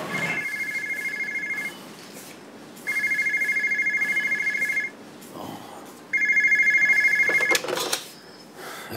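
A telephone rings in three separate electronic bursts, each lasting about one to two seconds with short gaps between them. The rings are loud and close, and a few clicks and knocks come near the end.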